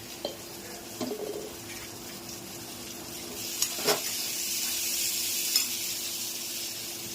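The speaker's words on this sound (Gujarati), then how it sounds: "મસ્ત મજાનો વઘાર થઈ રહ્યો છે" Mustard seeds, cumin and curry leaves sizzle in hot oil for tempering with a steady hiss that swells partway through, punctuated by a few light clinks of stirring.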